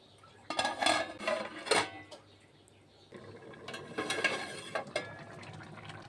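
A metal spoon clatters around a pot of bottle gourd and potato curry with fried bori, then a lid is set on it, giving two clusters of scraping and clinking knocks, fairly close.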